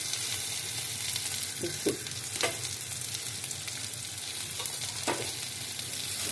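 Spices, masala powder, roasted gram, chili, fennel, ginger paste and plantain sauté in a hot pan. A continuous sizzle runs throughout, broken by a few sharp scraping strokes from a stirring spoon.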